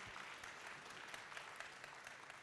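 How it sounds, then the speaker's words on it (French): A crowd at an award ceremony applauds steadily, a dense wash of clapping that stays even throughout, moderately distant. "Bartholomeu, je pense qu'on peut vous applaudir bien fort également."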